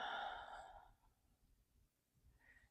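A single long, breathy exhale released during a yoga stretch, loudest at the start and fading within a second, followed by quiet room tone and a faint soft breath near the end.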